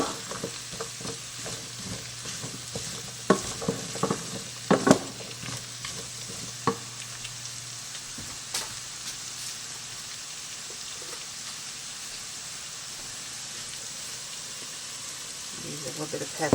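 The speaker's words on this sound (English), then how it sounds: "I put these in with just a little bit of oil. Not a whole lot. I just kind of want to get these sauteed up." Onion tops sauteing in a little oil in a pan on the stove, giving a steady soft sizzle with scattered stirring clicks and scrapes, loudest in the first five seconds and easing into a quiet continuous fry.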